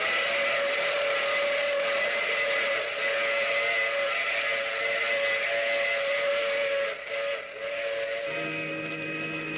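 A steam train whistle in a radio drama sounds as a long steady blast over rumbling hiss, with a brief dip and a lower tone entering near the end, no voices.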